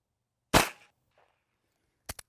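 A single loud close gunshot cracks and rings out as a round is fired at a target. After a quiet stretch, two fainter quick reports follow near the end, and no voices are heard.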